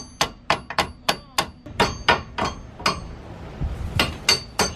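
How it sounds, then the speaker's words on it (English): A hammer strikes an extended wheel stud on a 2018 Honda Accord, a quick run of about fifteen sharp, ringing metallic blows. The close, loud hits come in uneven rhythm with a short pause midway and no talking. "you're gonna hit it with a hammer from that angle"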